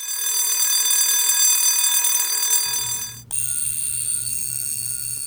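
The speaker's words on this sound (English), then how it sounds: "Ian, can you play the Breguet alarm they just played versus a regular alarm?" A Breguet alarm watch chiming: a bright, dense metallic ringing buzz that holds steady for about three seconds and then breaks off. A different, lower and softer pulsing tone follows, with no voices.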